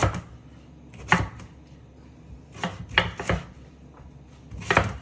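A knife chops a sweet potato into half-inch pieces on a cutting board, sharp separate thuds in an uneven rhythm, about six cuts, close and clear with no talking.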